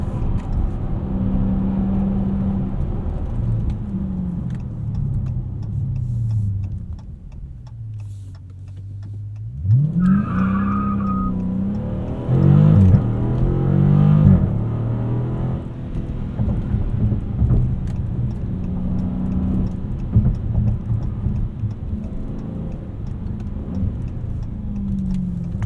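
A 2019 widebody Dodge Challenger R/T Scat Pack driven hard at night, its engine droning loudly and steadily from inside the cabin, with rising revs and shifts midway; no talking.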